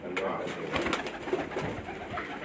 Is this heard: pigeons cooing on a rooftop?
yes